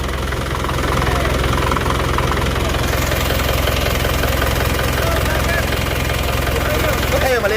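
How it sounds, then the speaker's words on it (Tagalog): A small engine idles loud and close after an overhaul with a new piston and piston rings, a steady, even running drone throughout. "Bago na yung piston saka piston ring. Ganda ng andar, Dik"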